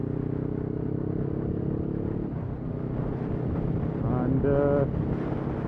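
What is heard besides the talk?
500 motorcycle riding on road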